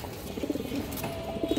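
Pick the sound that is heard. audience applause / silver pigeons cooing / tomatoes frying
silver pigeons cooing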